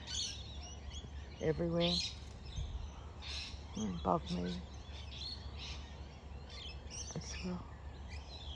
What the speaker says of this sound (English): There's the beautiful birds up there.